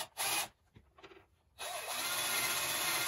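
A power drill pre-drills a hole in wood for a shop paint-storage cart, with a short burst, a pause of quieter handling, then a loud sustained whine running to the end.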